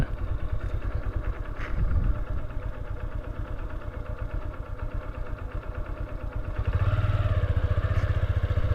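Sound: small train engine running at railway station

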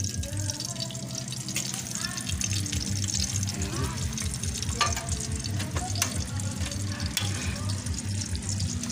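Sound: fish frying in oil

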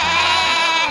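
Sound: voice imitating a goat bleat

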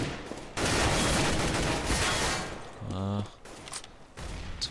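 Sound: gunfire in the video game Counter-Strike

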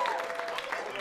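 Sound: audience applause at comedy show

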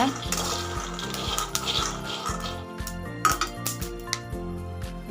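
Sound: peanuts dry-roasting in a pan

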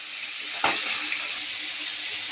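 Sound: boiled chickpeas and papaya added to pan, sizzling

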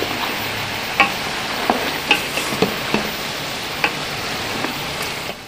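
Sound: frying and stirring mutton with cardamom in a karahi

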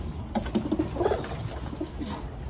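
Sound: pigeons cooing

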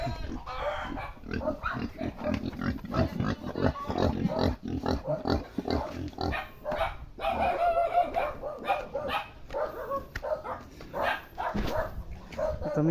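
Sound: pigs grunting

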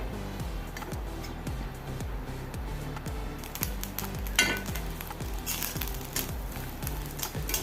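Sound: grated coconut being stirred and roasted in a pan on the gas stove

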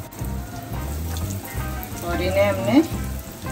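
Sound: chicken noodle balls dropped into hot oil, frying

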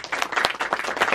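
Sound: applause

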